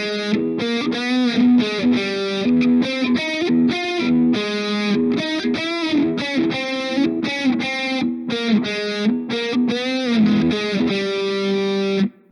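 Distorted electric guitar plays a riff, loud, repeating its chugging chord pattern continuously for about twelve seconds before stopping abruptly.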